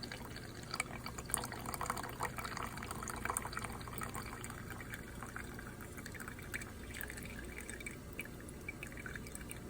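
Liquid containing iron poured slowly into a beaker, a continuous soft trickle with light dripping and splashing, steady and close throughout.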